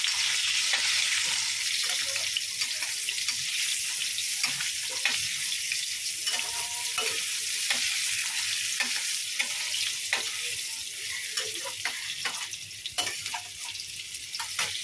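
Salt and turmeric frying in hot oil, with a loud, dense, continuous sizzle and crackle that holds steady for the whole stretch, with faint stirring taps underneath.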